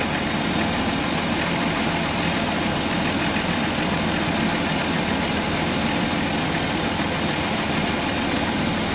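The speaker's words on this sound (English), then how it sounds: "At some point, the AC system should kick on." The engine of a 2006 Dodge Grand Caravan runs at idle during an air-conditioning recharge, a loud, steady, even drone with no change across the clip and no talking.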